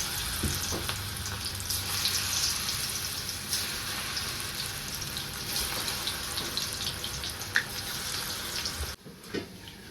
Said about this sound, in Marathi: तेल पण छान असं तापलेलं आहे तर एक एक आता पकोडे मी ह्यात सोडून घेते